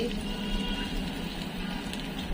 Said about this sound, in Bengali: দিয়ে দিলাম রান্নার রেগুলার তেল দিয়ে দিলাম পেঁয়াজ কুচি